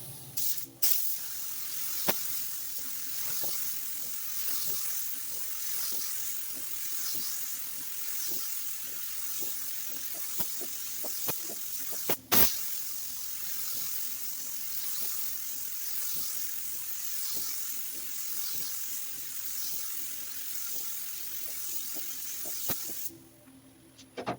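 Spray gun laying a heavy coat of paint on a 1965 Mustang, a soft continuous airy hiss broken by many short trigger pulls and pauses, fairly quiet and steady throughout.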